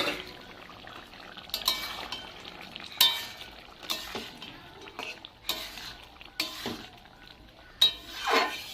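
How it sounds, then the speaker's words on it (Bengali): Cooked mutton with garam masala being stirred in a pot, a spoon scraping and clinking against the metal in irregular bursts over a soft background sizzle, close and moderately loud. "এবার আমি গরম মশলাটা দিয়ে দিলাম। এবার আমি একটু নেড়ে চেড়ে মাংসটা নামিয়ে দেব।"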